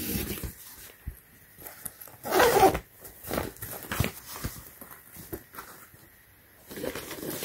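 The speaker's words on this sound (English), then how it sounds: "And on the corner, you could also zip it up too." A zipper is pulled along the corner of a waterproof, scratchproof nonslip dog car seat protector sized 54 by 58 inches, giving short close rasping bursts with rustling fabric in between.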